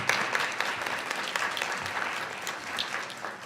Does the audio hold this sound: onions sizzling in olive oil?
no